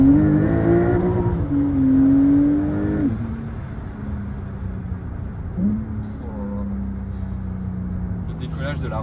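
Porsche 992 Turbo S accelerating hard from a launch in manual mode with paddle shifts, its engine note rising in strong pulls with audible gear changes, loud and close, with someone talking over it.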